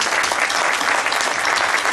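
Dense, even applause from a symposium audience in a hall, continuous clapping at steady volume throughout the short stretch.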